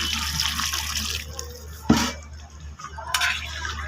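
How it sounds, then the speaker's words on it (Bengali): Water pours into a pot of potato and drumstick curry to make the gravy, a continuous splashing rush with a sharper splash midway, steady background hum beneath. "এখন আমি ঝোলের জন্য জল দিয়ে দেবো"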